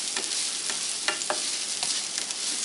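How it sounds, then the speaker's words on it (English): Onion browns in a hot stir-fry pan, a continuous loud sizzle punctuated by quick stirring scrapes and taps of the utensil, with no talking. "So we're just browning a little bit of onion."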